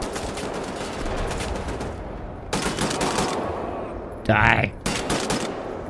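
Rapid machine gun bursts from a shooter game set in Wolfenstein: The New Order, dense automatic fire in several stretches with a brief sharp impact near the end, and a voice speaking briefly over the gunfire.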